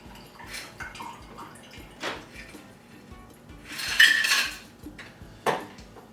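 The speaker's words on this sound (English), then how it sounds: "So pour the contents in there, our cocktail, out of the shaker." A French 75 cocktail is strained from a metal shaker into a glass, with light clinks of ice and metal, brief splashing and one brighter rattling pour near the middle, close and fairly quiet.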